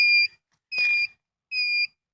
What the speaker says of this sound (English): As you can see, it's got turn signal over here.